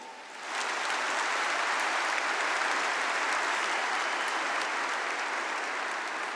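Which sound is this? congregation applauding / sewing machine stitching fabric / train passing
congregation applauding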